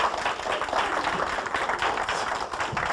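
A church congregation applauds on a Sunday morning, many hands clapping in a dense, even round that holds steady throughout with no talk over it.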